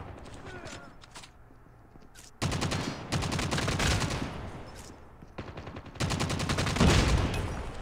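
LK24 assault rifle firing in Call of Duty Mobile, long rapid automatic bursts, loud and close, separated by short pauses and quieter background game sounds.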